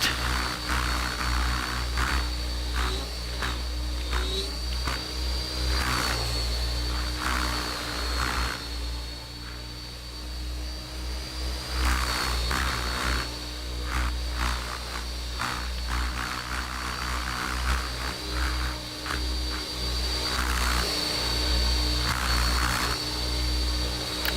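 An engine holds a fast idle with a steady, loud droning hum and a constant low rumble, broken by occasional brief rushes of noise and no voices.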